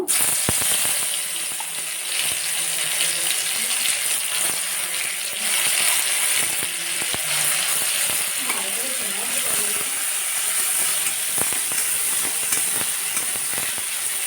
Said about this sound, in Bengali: এরপরে আমি এই যে গোটা জিরে দিয়ে দেবো তেলের পরে।